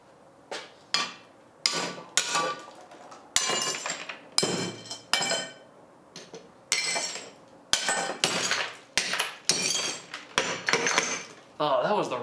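Glass jar shattering, struck by the glass-breaker tip of a cheap survival cane, then more hits: a run of sharp crashes and clinks repeating at irregular intervals, close and loud, with tinkling fragments trailing each impact.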